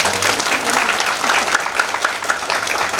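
An audience at a spiritual discourse on finding God within breaks into loud, dense applause that runs steadily through the full three seconds, with no pauses and no talk over it.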